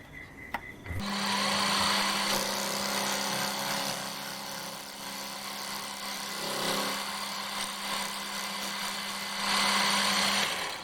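A metal lathe cuts with an upside-down boring bar while building a bench top belt sander, producing a steady droning whine with a sustained tonal hum and rough vibration that starts abruptly after a brief pause, loud and close.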